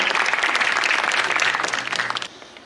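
An audience applauds at a puppet festival opening ceremony in Hatay, a dense, steady burst of clapping from a crowd that holds strong for about two seconds, then quickly dies away.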